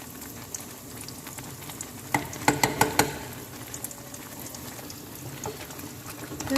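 Thick chicken béchamel sauce thinned with a little water simmers and bubbles in a pan, giving a soft continuous sizzle with a short cluster of sharper pops and blips midway.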